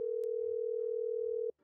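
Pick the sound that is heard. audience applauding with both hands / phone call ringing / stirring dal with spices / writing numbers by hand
phone call ringing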